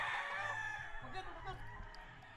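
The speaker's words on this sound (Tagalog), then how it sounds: "Ang daming manok?" Chickens clucking and a rooster calling in a busy chicken farm yard, steady background noise throughout, with faint voices in the distance.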